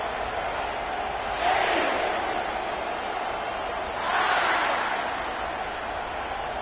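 A large home crowd at a college football playoff game roars continuously, swelling into two louder surges of cheering over a steady stadium din.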